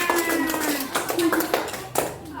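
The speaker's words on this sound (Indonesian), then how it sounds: "Iya, tepuk tangan." Students in a classroom clap their hands in a few loose, uneven bursts, close and moderately loud, while a teacher's voice and children's voices speak over them.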